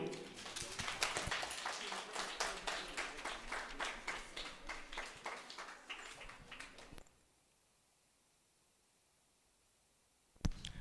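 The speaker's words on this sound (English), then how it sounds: "Clap for him." Audience at a junior school maths challenge applauds a participant with dense, steady clapping for about seven seconds, then stops abruptly, leaving near silence.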